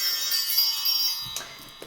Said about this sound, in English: I want to ring the bells and create some sacred space around this reading